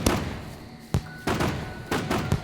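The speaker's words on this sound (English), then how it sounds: "So I think everyone's seen the fireworks by now, but we'll set a couple of them off." Fireworks going off in the video game Scum: several sharp, booming bursts spaced about a second apart, each with a crackling tail, loud and close against a faint background hum.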